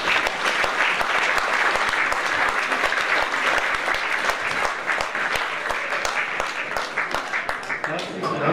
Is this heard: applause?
yes